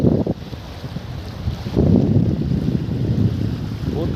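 A dinghy speeds along a river while wind buffets the microphone and water rushes past in a steady, rough roar that swells midway.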